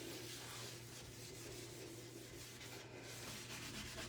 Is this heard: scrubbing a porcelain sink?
yes